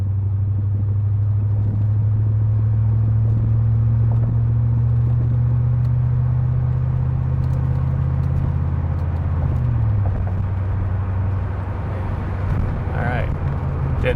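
A C4 Corvette with a freshly rebuilt transmission pulls away, its engine giving a loud, close, low rumble that steps in pitch as it shifts through the gears, while someone talks over it.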